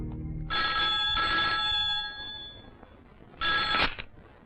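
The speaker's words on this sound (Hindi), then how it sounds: "डॉक्टर, आपका फोन।" A telephone rings in a doctor's office in a 1996 Hindi film scene, giving a long trilling ring followed by a shorter second ring after a pause. The sound is moderately quiet and no one speaks over it.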